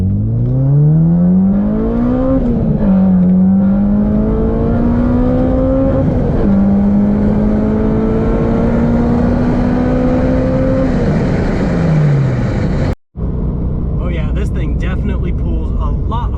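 An Acura RSX on a test drive, running a new fuel pump and spark plugs, accelerates hard through several gears, its engine note climbing loud and close from inside the cabin, with short pauses at the shifts and a brief dropout near the end.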